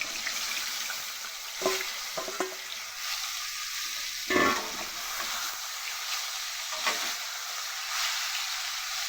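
Egg, soybean and potato fry together in a hot wok over a high flame: a continuous close sizzle broken by several sharp clinks and scrapes of a spatula stirring the pan.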